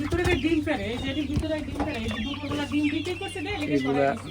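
Desi chickens on a Bangladeshi farm cluck and murmur in a steady run of close, moderately loud calls, with other birds mixed in and a person talking over them.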